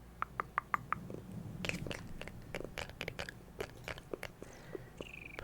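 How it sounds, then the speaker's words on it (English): A cat making small noises right underneath a microphone: a few quick high-pitched squeaky chirps followed by scattered soft clicks and mouth sounds, close and intimate, with no speech. "mind the cat noises. She is right underneath the microphone."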